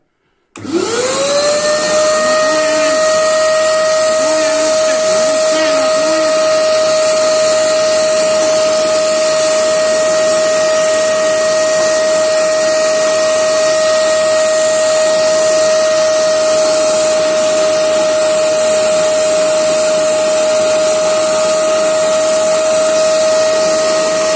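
A DEKO DKSP65C1 electric paint sprayer switches on with a sharp start and then runs in a loud, steady whining hiss with a constant high tone, alone for over twenty seconds.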